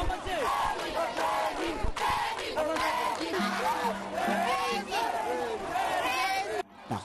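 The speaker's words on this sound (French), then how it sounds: "c'est une foule en effervescence qui accompagne le président de la République" An excited crowd in the Simbaya neighborhood greets the president of Guinea, a dense, continuous roar of shouting and cheering voices close by with chanting and whoops throughout.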